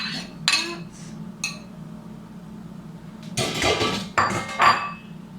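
A utensil scrapes and clinks against a pot while onions and peppers are stirred into rice, a few separate knocks followed by a busier run of metallic scraping over a low steady hum.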